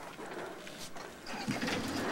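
Soft, low cooing of pigeons aboard a yacht, a few short murmured calls over faint background noise.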